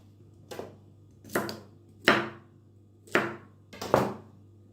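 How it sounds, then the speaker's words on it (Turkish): A knife chops through vegetables on a board, five separate crisp strikes at an uneven pace over a low steady hum. "Bunu bıçakla doğramak istiyorum."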